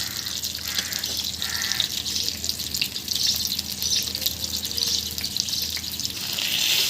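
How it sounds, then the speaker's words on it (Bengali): Chopped chilies and onions sizzle in hot oil in a wok, a continuous hissing fry with occasional stirring scrapes, steady and fairly close, with no talking. "কেটে রাখা মরিচ পেঁয়াজ তেল দিয়ে দিয়েছি"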